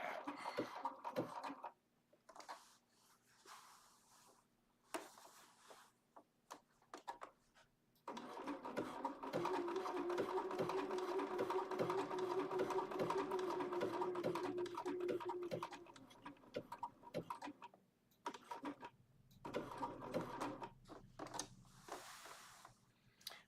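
A Bernina sewing machine run by a standard foot control stitches in a steady close whir for several seconds, with shorter start-stop bursts and soft handling clicks around it.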